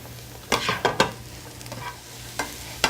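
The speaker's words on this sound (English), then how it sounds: "And then you're going to saute that for about 4 minutes or until it's lightly browned." Coarsely chopped white mushrooms sauté in a pan, giving a low steady sizzle broken by several sharp scraping stirs of a utensil, close and fairly quiet, with no voices.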